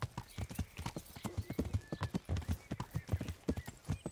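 Horse hooves clip-clop in a quick, regular gallop rhythm while riding in the video game Kingdom Come: Deliverance, close and steady over several seconds with a faint background tone.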